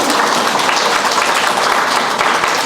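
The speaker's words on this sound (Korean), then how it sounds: "우리 박태민 신부님과 파우스티나 수녀님이신데 큰 박수로 한번" A loud burst of audience applause greets a Catholic priest and a nun at a volunteer training lecture in a church hall, dense close clapping filling the short stretch without pause.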